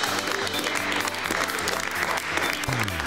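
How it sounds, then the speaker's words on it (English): Audience applause in a MasterChef UK Celebrity studio, a steady dense clapping that holds for a few seconds without a break. "You can hear the applause."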